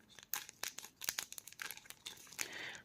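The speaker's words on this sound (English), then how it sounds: "Okay, we cut here." Small scissors snip plastic model kit parts from the runner for a Shenlong MG build, a string of sharp close clicks and crunches with a brief crinkle between cuts, no talking.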